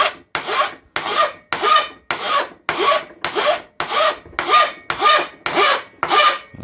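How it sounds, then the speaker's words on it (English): Hand filing of a rifle stock to seat an adjustable recoil pad, a steady run of about a dozen close, rhythmic rasping strokes with brief gaps between each pass, no voices. "I'm sure you don't want to see the whole journey of me filing this out"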